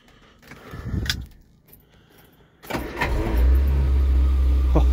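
A 1975 Vauxhall Viva that has sat unused in a barn is started on choke: brief key jangle and a short cranking attempt, then the engine catches and settles into a loud, steady idle.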